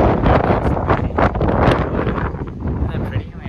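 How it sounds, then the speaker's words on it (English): Strong wind buffeting the microphone on the open deck of the Norwegian Bliss cruise ship, a loud, continuous rushing roar throughout, with a voice speaking faintly underneath. "Wow, it's really windy here."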